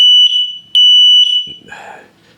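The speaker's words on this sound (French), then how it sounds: "le détecteur de fumée, et ça va jusqu'à 85 décibels" Connected smoke detector sounding its test alarm: two loud, piercing high beeps in quick succession, then brief rustling and handling noise as the tone stops.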